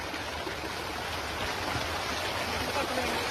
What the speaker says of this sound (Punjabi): ਕਿੰਨੀ ਤੇਜ਼ ਪਾਣੀ ਵਹਿ ਰਿਹਾ ਸੜਕ ਦੇ ਉੱਪਰੋਂ